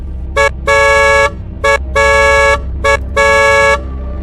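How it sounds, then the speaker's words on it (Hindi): A bus horn on a road honks three times, each a short toot followed by a longer blast, loud and close in a steady rhythm, with no voices. "उसे दूर से सड़क पर एक बस के हॉर्न की आवाज सुनाई दी।"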